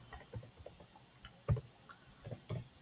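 Keyboard typing in short irregular bursts of clicks, close and fairly quiet, with a few heavier keystrokes standing out; no talking.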